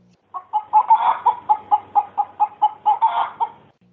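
A chicken clucking sound effect: a dozen evenly spaced clucks in a steady rhythm, clear and close against a quiet background.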